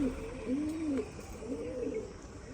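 Pigeons coo softly in a loft on a hot day, a few low, rolling calls repeating in quick succession over faint background noise.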